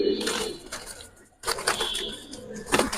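A flock of pigeons coos steadily in a busy loft or market, the calls overlapping with shuffling and other background clatter, with no speech.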